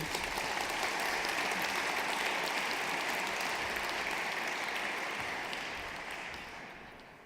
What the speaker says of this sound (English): please join me in a round of applause for our welcoming remarks